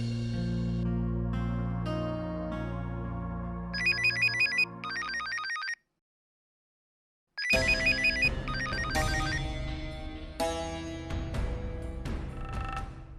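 A telephone rings indoors with a loud electronic melodic ringtone that plays in repeated phrases, stops briefly, then starts again.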